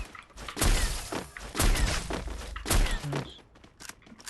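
Gunfire in the Free Fire video game comes as a run of loud, sharp shots, about four spaced bursts with thuds and echoing tails, heard without talking.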